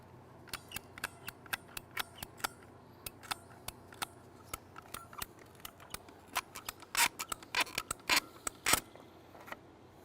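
A handheld PVC cutter snips through irrigation pipe in the garden, a string of sharp, crisp clicks and ratcheting snaps repeating unevenly, closing in a denser burst of crunching cuts near the end.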